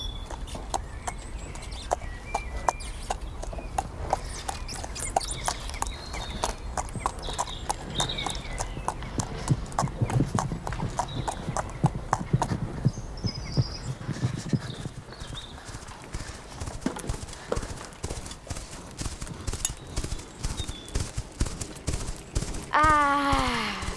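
Horses' hooves clip-clop through the streets of Hanover in a steady, close rhythm that runs the whole time, with faint birdsong in the background and a brief whinny near the end.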